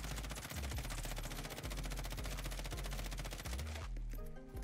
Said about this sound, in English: I have the M13. I'm just gonna aim down sight and let it rip just so I can show you guys the recoil pattern.